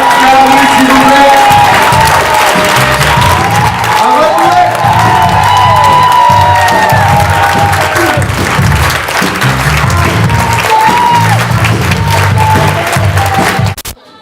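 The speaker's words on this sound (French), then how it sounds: "faire un tonnerre d'applaudissements pour Amber Benson" A crowd at a fan meet convention gives loud, sustained applause with cheering and whoops for a celebrity guest, with shouting voices over the clapping until it cuts off abruptly.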